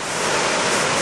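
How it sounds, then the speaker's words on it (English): Lepreau Falls in New Brunswick, water pouring over a cliff roughly 50 feet high, a dense, continuous, loud broadband roar with no pauses. "Now you can actually see the other side of the cliff and the water going over that cliff."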